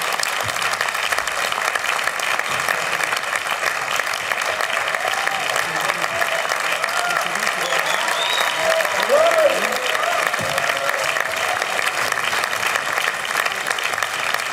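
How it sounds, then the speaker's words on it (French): Audience applause at a film-festival meeting with director Jacques Audiard, a sustained roar of clapping across the whole stretch with scattered cheers and voices rising faintly through it. "On peut l'applaudir très fort."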